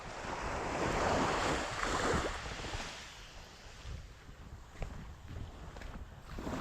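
A fishing boat riding ocean waves, with surf wash and wind buffeting the microphone, loud at first then easing to a choppier splashing with occasional knocks; no talk.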